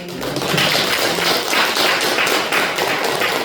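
An audience at a Buddhist dharma talk claps together in a steady, dense patter of applause that holds for a few seconds without easing off.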